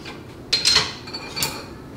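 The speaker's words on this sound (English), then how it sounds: "stir up your dry first, just so all the cinnamon and sugar can get all up in there" Dry muffin ingredients, including cinnamon and sugar, stirred in a bowl, with a few soft scraping clinks close by in a quiet room and two brief bursts of activity.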